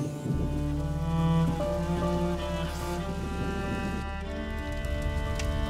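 Rain in the video game A Plague Tale: Innocence, a constant wash of falling rain heard under steady tonal music and ambient drones for the whole stretch, with no voices.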